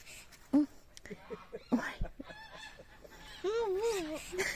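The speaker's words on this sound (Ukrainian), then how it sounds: "Гусі-гусі кричать." Geese honk nearby in several loud, wavering calls, with a few short bursts of people talking between them.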